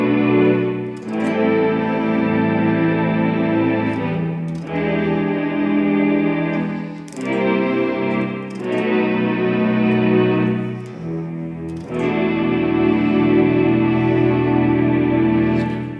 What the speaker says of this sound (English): I've dialed up one of my favorites, which is the orchestral string section